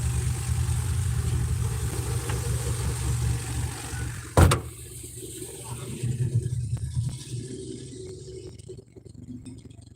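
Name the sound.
car idling while stopped in the road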